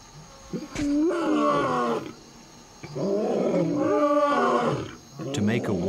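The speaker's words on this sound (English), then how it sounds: "To make a warning more fearsome, lions often roar in chorus." Adult lions roaring in chorus in the wild, a series of deep, drawn-out roars rising and falling one after another, loud and close.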